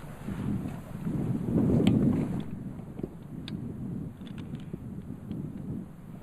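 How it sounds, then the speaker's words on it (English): Strong wind buffets the microphone on top of a long barrow on the South Dorset Ridgeway, a steady roaring rush that swells in the middle and then eases, with no one speaking. "Although it's quite a windy day here"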